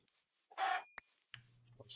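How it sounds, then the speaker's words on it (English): A chicken in a jungle area of a multiplayer survival video game gives a short burst of clucking, then a softer rhythmic chirping follows, with faint game sounds around it. "Chicken."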